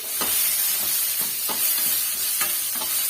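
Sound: small onions being sautéed in a pan

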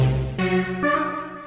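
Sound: Hypersaw 3 preset on Citrus synthesizer in FL Studio

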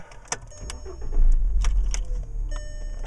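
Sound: 2006 Volkswagen Jetta 2.5 engine starting up

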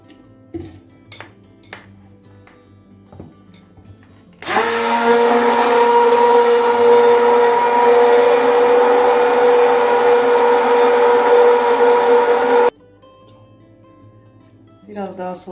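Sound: mixer whipping cream with ice water to make butter

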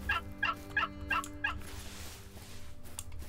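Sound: turkey gobbling in video game Hunter: Call of the Wild

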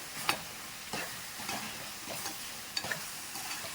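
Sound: stirring prawn curry in a pan

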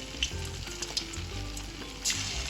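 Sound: chilli chicken pieces frying in oil

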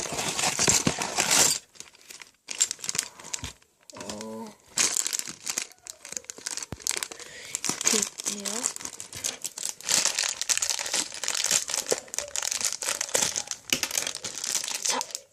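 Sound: opening a Lego Ninjago minifigure packet

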